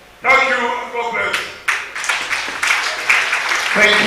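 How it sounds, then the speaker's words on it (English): An audience at a community development union gathering in Lagos breaks into applause. A loud, close burst of clapping builds and continues, with voices mixed in under it. "I think it deserves much more than the kind of applause that you gave it"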